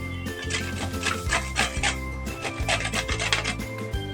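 Ridge gourd is rubbed against a grater in a home kitchen, giving a steady series of rasping strokes that repeat rhythmically and sit close and clear with no talking.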